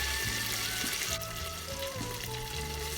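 Ginger paste frying among caramelized onions for a mutton curry, giving a steady close sizzle under a low continuous hum throughout.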